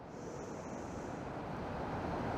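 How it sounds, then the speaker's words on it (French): Ocean waves wash steadily onto a shore, a continuous broadband roar of surf with wind, alone and unchanging in level, no voices. "j'ai la chance d'admirer l'océan, d'admirer les vagues"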